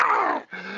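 A human voice imitates dogs growling in two short, rough, throaty bursts split by a brief gap, loud and close.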